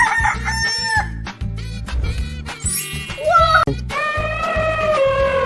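A rooster crows loudly over a steady, thumping musical beat, with bright electronic tones sliding in between.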